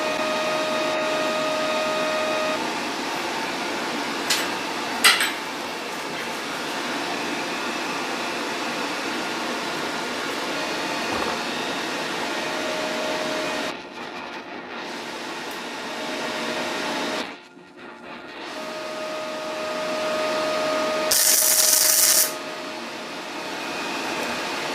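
Parkside PMSG200 MIG welder with 0.6 wire tack-welding thin sheet metal at about 13.9 volts and 65 amps: a steady hissing, buzzing drone with short pauses and a few brief crackling bursts.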